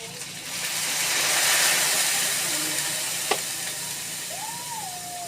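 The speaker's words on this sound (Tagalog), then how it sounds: "Tubig na mainit na malagay ko." Steady hissing sizzle of hot water poured into a pan of adobo with soy sauce, broad and continuous, with a brief clink partway through and a faint squeaky tone near the end.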